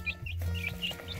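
Hens cluck in short, close bursts in a poultry pen, a quick series of clucks with a low throaty note underneath.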